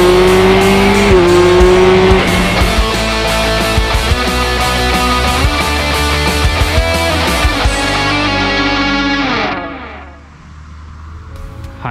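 Four-cylinder engine of a vintage Honda CB900F Bol D'or motorcycle runs loud and close with a steady, rich tone and small rises in revs, then drops off sharply near the end.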